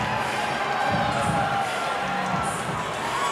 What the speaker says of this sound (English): a huge ovation, the biggest of the night, in fact, from the crowd here at 4th Street Live in Louisville